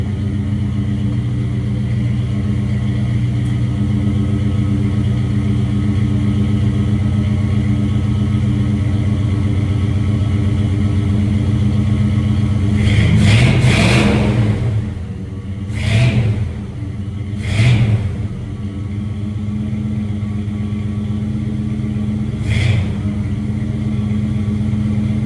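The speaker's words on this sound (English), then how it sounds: "I am pretty darn happy with the sound of that exhaust." A 1978 Chevy C20 truck exhaust idles with a low steady rumble, then barks through three or four quick revs before settling back to idle.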